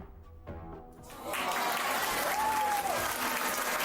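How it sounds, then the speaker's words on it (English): Applause from a small group swells in after a quiet start and continues as steady clapping, with a brief tonal sound and some voices mixed in. "Go with the applause."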